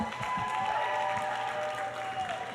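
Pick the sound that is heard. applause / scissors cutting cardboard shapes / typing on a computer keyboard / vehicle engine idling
applause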